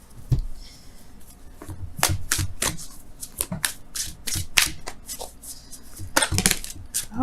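Oracle cards are shuffled by hand in a run of soft riffling and rubbing bursts with sharp slaps and snaps, close and steady, without any talk.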